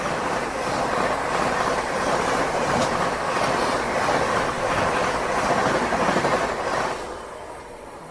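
Indian express train passing close on the Delhi–Gaya Amrit Bharat Express route while overtaking, a loud continuous rumble with clickety-clack of wheels over rail joints, easing slightly near the end.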